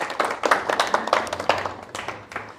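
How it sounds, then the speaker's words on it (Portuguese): Christian students visiting a mosque get a round of applause: a short burst of clapping from a small group, brisk and fairly close, fading slightly toward the end with no talking over it. "Uma grande salva de palmas para eles."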